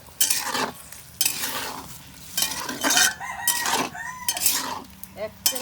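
A metal spoon stirs radish and chicken curry in a pot, producing bursts of scraping and clattering against the pot separated by short pauses, close and fairly loud with no talking.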